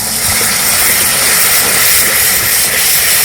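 Water poured into hot spice masala in a pan, giving off a loud, steady hiss of sizzling and steam, close and continuous.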